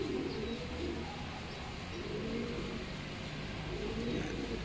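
A racing pigeon gives three low, rolling coos at a slow, regular interval over a steady wash of background noise.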